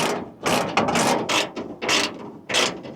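A socket wrench runs rivets down into inserts on an Inca topper on a Jeep Gladiator, giving repeated loud, close bursts of ratcheting clicks with short pauses between them.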